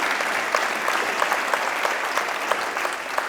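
An audience at a heart and stroke dialogue event applauds its guests and heart and stroke survivors, giving dense, sustained clapping that stays loud and close throughout.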